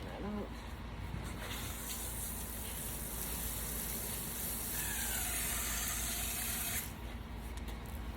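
A steady, strong stream of water splashing and hissing into soil and leaves of a flower planter, continuous and close for the whole stretch, with no voices.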